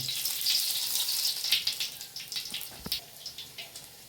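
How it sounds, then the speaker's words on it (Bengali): Whole dried chillies and black cumin temper in a little hot oil, producing a steady, close hiss of sizzling with scattered sharp crackles and pops throughout and no voices. "এই যে সামান্য তেল দিয়েছি, দিয়ে এই যে গোটা শুকনো লঙ্কা আর কালো জিরে ফোড়ন দিয়ে দিলাম প্রথমে"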